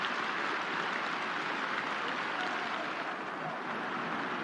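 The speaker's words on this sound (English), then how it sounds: "He's getting a very big round of applause here tonight" Steady, dense crowd applause fills a stadium at an under-18 FA Youth Cup semi-final between Aston Villa and Manchester United, a continuous broad roar of clapping held at even loudness throughout, with no speech over it.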